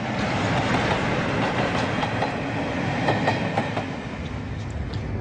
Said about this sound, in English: the royal train is on its way north